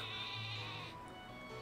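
A Wooloo, the woolly sheep Pokémon in Pokémon Sword & Shield, lets out a soft, drawn-out bleat, faint and heard alone over quiet game ambience.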